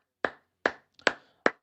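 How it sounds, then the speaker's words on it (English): Four separate sharp hand claps, close and fairly loud, spaced about half a second apart, during a casual football watchalong for an Arsenal versus Everton match. "MJ, well, hey, MJ, round of applause."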